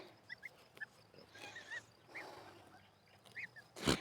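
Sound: goslings

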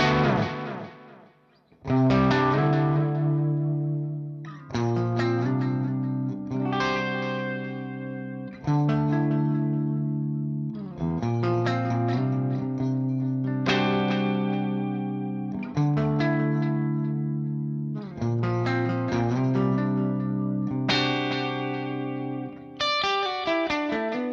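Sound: guitar delay effect from Universal Audio OX Box

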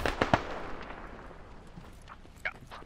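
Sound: grenade explosion in a video game (Squad)

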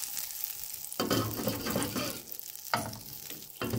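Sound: butter melting and sizzling in a baking tray

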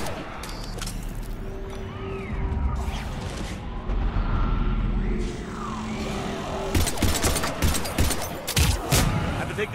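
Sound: gunfire in video game Mass Effect 3

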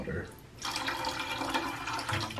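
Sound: pouring water

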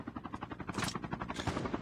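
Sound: helicopter approaching in the video game Call of Duty

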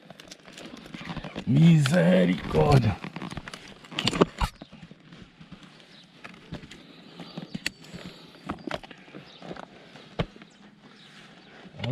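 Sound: horse hooves clip-clopping

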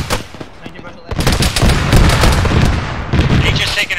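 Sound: gunshot from the video game Arma 3

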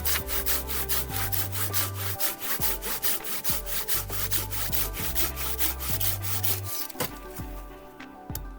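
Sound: Silky Gomboy 300-10 folding saw cutting wood

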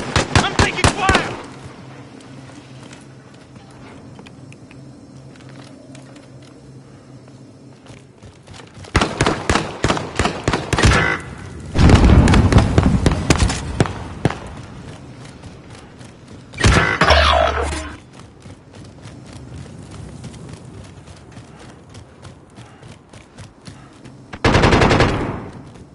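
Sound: gunfire in a video game

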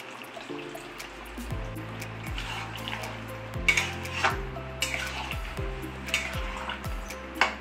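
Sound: pouring liquor tea into mutton in pan

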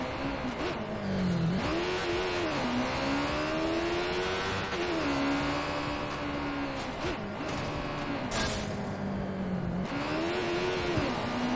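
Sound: motorcycle engine in video game Watch Dogs 2

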